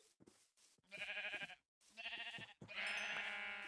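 A sheep in a survival video game bleats three times in a row, clear and close, with short pauses between each cry and no talking.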